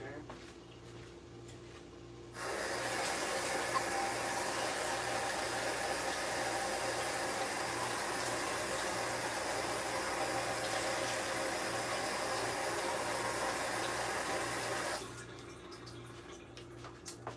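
A cup of plain water is poured into a chili and soufflé dish, a steady broadband splash lasting about twelve seconds, starting and stopping sharply with quieter background before and after.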